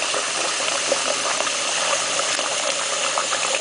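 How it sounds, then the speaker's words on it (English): Hot tap water gushes steadily into a container over raw chicken breasts, a dense, continuous splashing rush that stays loud and even throughout. "I turn the water on hot"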